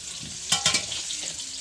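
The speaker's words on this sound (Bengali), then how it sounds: "এই যে চিকেনের জন্য আলু ভাজা" Potatoes frying in a pan with a steady low sizzle and a couple of quick scraping stirs near the middle, brief and close by, with no one talking.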